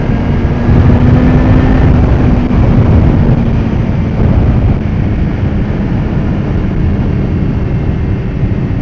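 Heavy, constant wind roar buffets the microphone while riding a 2015 BMW S1000RR motorcycle, a loud low rumbling rush with faint engine tones beneath, steady throughout.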